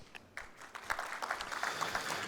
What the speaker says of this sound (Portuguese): Eduardo Matias Tarouco, CEO da Xventures, a quem nós convidamos para que suba ao palco com os nossos aplausos de boas-vindas.